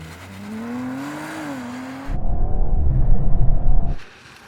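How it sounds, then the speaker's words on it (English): Audi RS5 braking hard from 70 mph on a wet track: a steady engine tone gives way to a loud rumbling, churning roar of tyres on wet tarmac for about two seconds, then cuts off abruptly. "Let's see how good this car brakes in the wet."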